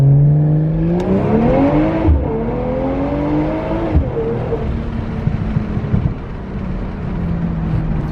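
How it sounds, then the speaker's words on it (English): A turbocharged Nissan 350Z with an 800 whp setup drones loud and steady, its engine pitch climbing and falling through shifts, with a continuous tonal whine riding over the rumble. "the turbo sound is so fire on this thing"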